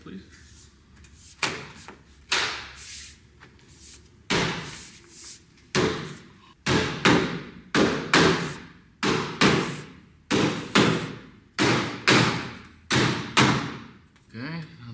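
Sunroom panels being hammered into place during a CrystaLite installation: a series of sharp, close thuds in an uneven rhythm, some in quick pairs, with people talking between blows.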